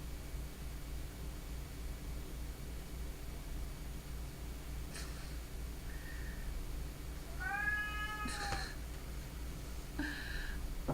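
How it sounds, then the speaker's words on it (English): A female cat meows several times in a quiet room at night, short rising and falling calls spaced apart over a steady low background hum. "She's just standing there meowing."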